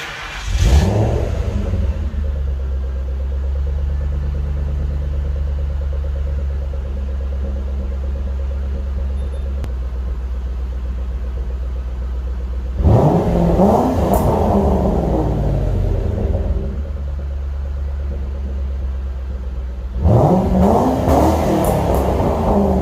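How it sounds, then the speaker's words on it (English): A 1997 Lincoln Mark VIII LSC with an aftermarket tune rumbles at a deep, steady idle, its exhaust note swelling in two loud revs midway and near the end before settling back to the low drone. "Just want to give you a little exhaust clip of how it sounds"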